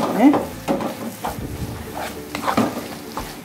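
A spatula stirs and tosses fried rice vermicelli with sweet ABC soy sauce in a hot pan, giving a steady sizzle with scraping, clinking strokes at irregular intervals.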